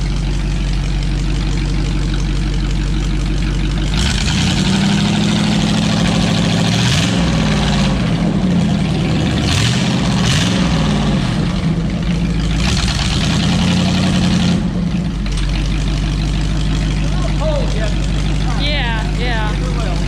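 A straight-piped Ford flathead V8-60 fitted in an American Austin chassis idles with a loud, steady, deep burble, and voices talk over it throughout.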